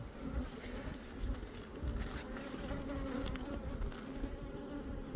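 Honey bees buzz steadily around an open hive with Hoffman frames during an inspection, a dense, close drone of many wings that holds at an even level throughout without a break.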